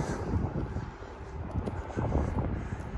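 Rough, buffeting rumble of wind battering a microphone covered by a small cotton ball, outdoors at the University of Regina, continuous and fluctuating, with a low roar like a distant engine underneath.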